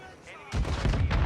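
Warzone 2 gunfire bursts in sharply at the midpoint and keeps up as dense, loud, rapid shots with rumbling low end, after a quieter opening.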